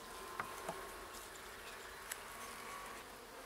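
Faint, steady buzzing of honey bees around an artificial swarm hive, a soft continuous hum with a few brief clicks and taps.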